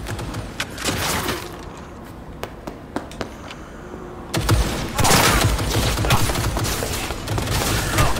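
Rapid gunfire with tracer rounds in the video game Cyberpunk 2077, with sharp single shots before a loud, dense, sustained burst of sound that fills the second half.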